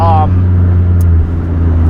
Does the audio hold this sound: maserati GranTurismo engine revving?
yes